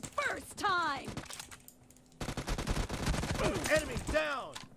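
Bursts of UMP and P90 submachine-gun fire in PUBG Mobile, rapid shots crackling under lively talk through the clip, with a denser stretch of firing in the middle.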